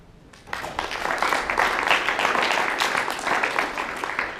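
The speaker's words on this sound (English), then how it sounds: "Clap for this whole group, they did very well." A group of classmates applauds after a class presentation, a dense, sustained clatter of many hands that starts suddenly and continues evenly, moderately loud.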